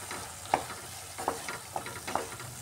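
A spice paste with Kashmiri chili powder stir-fries in a pan for an omelette curry, giving a soft sizzle under four or five distinct spatula scrapes and taps spaced about half a second apart.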